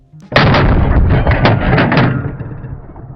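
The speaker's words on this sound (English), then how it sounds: "This is probably one of the most violent semi-auto rifles I've ever shot in my life." A single loud, close gunshot from a bullpup CQB .50 caliber semi-automatic rifle fitted with a large muzzle brake, a sharp blast followed by a long rumbling echo that slowly fades outdoors.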